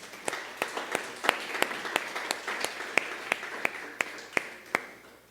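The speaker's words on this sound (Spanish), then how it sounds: "Démosle un aplauso al Señor," A church congregation claps together in a clear, rhythmic beat, with each sharp clap standing out evenly over a soft background murmur.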